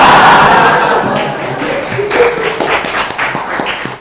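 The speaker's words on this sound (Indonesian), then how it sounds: "Gitu aja langsung tepuk tangan gitu" An audience at an Islamic theology lecture breaks into loud clapping that starts at full strength and fades gradually over a few seconds, the individual claps thinning into scattered taps with faint voices mixed in.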